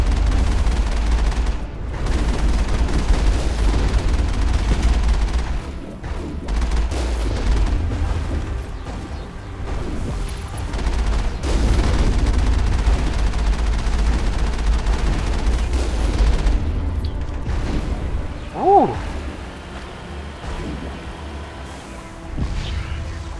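Mass Effect combat fills the scene with loud, continuous gunfire, booming blasts and explosions, and a few sharper impacts near the end.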